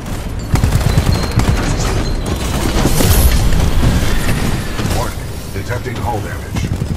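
Gunfire in Titanfall 2 during a Titan battle: a loud, continuous fusillade of shots and mechanical clanks and booms running through the whole stretch, dense and close.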